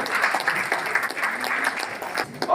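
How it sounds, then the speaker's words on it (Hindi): An audience at a Green Army environmental oath ceremony applauds a newly named zone secretary, giving steady, moderately loud clapping that holds for a couple of seconds and then fades. "जोरदार ताली पद्मिनी वर्मा जी के लिए"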